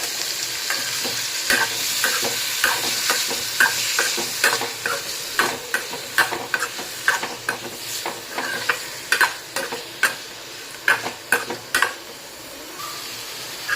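Paneer stirred and fried with spices in a pan: a steady sizzle runs throughout, broken by frequent sharp clicks and scrapes of a spoon against the pan, with no talking.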